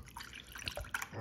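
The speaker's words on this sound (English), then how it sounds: "pour some of this room temperature water" Room temperature water poured into a container, a soft, fairly quiet splashing and trickling with a few brighter drips near the end, heard alone without talk.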